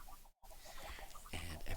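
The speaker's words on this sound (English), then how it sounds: "basically what we've got is a bunch of chickens standing on carpet" Blocky video-game chickens in Minecraft, standing on carpet, give off soft repeated clucks throughout, with a busier burst of clucking near the end under light game ambience.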